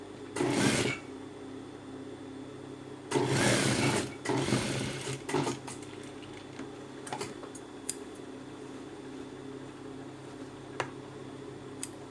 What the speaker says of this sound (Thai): เราก็มาเย็บอีกข้างหนึ่งนะคะ